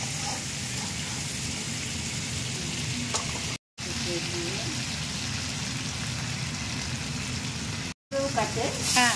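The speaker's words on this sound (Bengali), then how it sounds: "মানে একদম ফুল ফ্লেমে মাছগুলোকে ভাজা করে" Fish frying in oil on a full flame gives a steady, dense sizzle throughout, broken by two brief silent gaps, with faint stirring and a little speech near the end.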